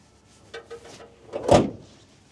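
Door of a 1973 Pontiac Trans Am 455 swinging shut, a couple of soft clicks of movement and then one solid thud, close and fairly quiet.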